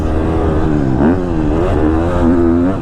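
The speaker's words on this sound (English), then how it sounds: "this KTM motor is really, really smooth and really strong" A 2022 KTM 250 SXF dirt bike engine, a 250F, revs close and loud with a smooth, strong, buzzing tone that rises and falls in pitch throughout.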